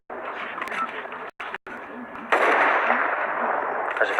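Gunfire in a first-person shooter video game, a dense continuous burst of shots swelling louder midway through, with game noise and a voice speaking over it.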